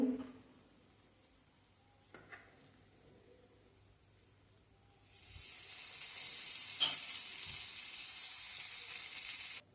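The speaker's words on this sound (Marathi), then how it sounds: "हे पण दोन्ही बाजूने छान खमंग शेकून घेऊ" Pav bread roasting on a hot pan for chatpata masala pav, quiet at first with a few small knocks, then a steady loud sizzle begins about halfway through and continues.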